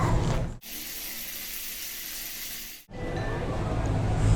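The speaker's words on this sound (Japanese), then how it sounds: "はい、じゃあシャワー浴びてきます。" A strong coin-operated shower runs at a highway rest-area facility, giving a steady, loud hiss of spraying water that cuts off briefly twice, with no voices.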